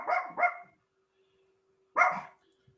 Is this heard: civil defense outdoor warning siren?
no